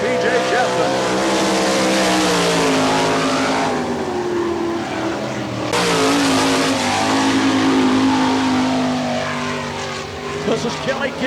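Sprint race car on a lap at Barberville speedway, Florida, its engine droning loud and steady with rising and falling pitch as it passes, the roar dipping briefly before building again.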